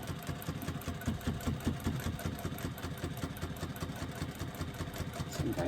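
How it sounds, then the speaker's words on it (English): A sewing machine runs continuously while stitching a seam, a fast even mechanical clatter heard close and fairly quiet throughout, with no talking. "I'm going to use another line of stitching just outside of that first line of stitching"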